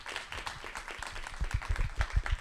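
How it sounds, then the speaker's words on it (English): A small workshop audience applauds an interview podcast guest with scattered, fairly light clapping that builds slightly, heard from within the room. "Please give a round of applause to Sophie Bearman"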